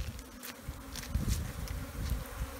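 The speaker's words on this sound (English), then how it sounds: "If you can hear all the bees, there you can see them there. Ton of African killer bees." A dense, steady drone of many African killer bees buzzing close by at a tree hive in Tanzania, with a low rumble underneath and faint higher whines drifting in and out.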